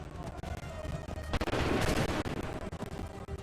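Gunfire volley in Assassin's Creed 3: a dense burst of rifle shots swells and rolls for about half a second, then trails into scattered cracks under game voices and background noise.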